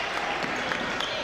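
Kearsarge fans at a boys basketball game stand and applaud, a dense, even wash of clapping from a large crowd, loud and continuous, with a commentator talking over it.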